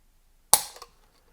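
A single sharp, close metallic snap as the trigger of a Phoenix Trinity 2011-style pistol breaks on a trigger gauge, followed by a faint second click and then silence.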